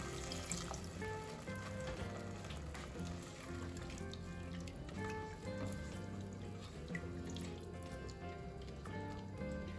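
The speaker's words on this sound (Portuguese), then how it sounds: "E agora eu acrescento a água." Water pours and splashes steadily into a cooking pot with meat in it for several seconds, a continuous close liquid rush with faint trickling.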